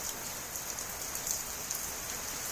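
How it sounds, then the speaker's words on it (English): Heavy rain falling before the wheat harvest, a steady, dense hiss of drops pattering on surfaces, continuous and close with no voices. "this is not the time when the rain should come"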